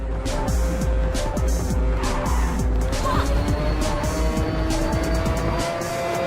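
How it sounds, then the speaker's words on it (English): A race car engine in the Ridge Racer video game roars steadily at close range, a buzzy, rasping chainsaw-like drone with rapid gear and rev fluctuations, tires briefly squealing. "This car apparently sounds like a chainsaw as well."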